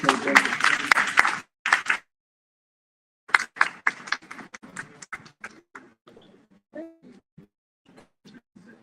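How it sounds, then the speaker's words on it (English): A room at a community people's hearing gives a short burst of applause that breaks off, then scattered claps and murmuring trail away sparsely. "Can we get a round of applause for TK Gaines?"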